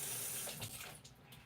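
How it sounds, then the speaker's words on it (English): Warm tap water runs steadily over fresh parsley being rinsed at a kitchen sink, a close, continuous splashing wash with small shifts in flow and no talking. "So what I do is I'll give my parsley a quick rinse with like warm water."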